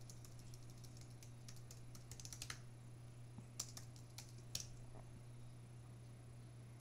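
Quiet bursts of computer keyboard typing with a few sharp key clicks over a steady low hum, close by and faint, while a package install command is entered.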